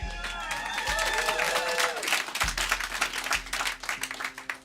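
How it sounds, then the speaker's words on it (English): A small audience claps for a musician in a lounge session. Scattered claps and a few cheers rise as a sustained musical tone fades out, with low thumps underneath. "You can clap for him."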